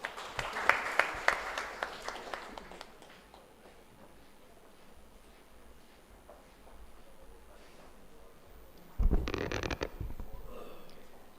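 Scattered applause from an audience at a law university valedictory ceremony, loud early claps that fade and become sparse, then a sudden burst of louder noise near the end.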